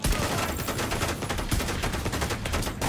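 The Regulus exotic pistol fires in the shooter The Division 2 amid a dense, loud stretch of combat gunfire with rapid shots and impacts that runs the whole way through without talk.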